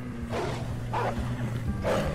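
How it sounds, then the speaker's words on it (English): Wolves snarl and bark in repeated bursts in a Red Dead Redemption 2 Wild West scene, three loud growling barks at steady intervals over a low rumbling game soundtrack. "We got more wolves on the left."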